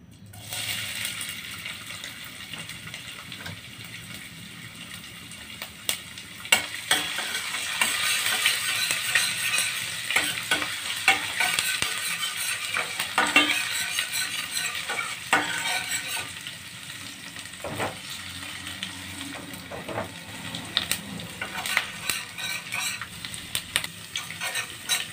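Ginger sautéed in a pan for bagoong alamang: continuous close sizzling and frying with repeated scraping stir strokes, growing slightly busier as the cooking goes on.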